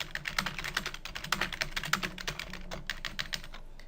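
Keys clatter on a computer keyboard in a quick, uneven run of close taps, steady and fairly quiet, with no speech over them.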